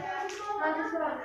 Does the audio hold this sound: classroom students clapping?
yes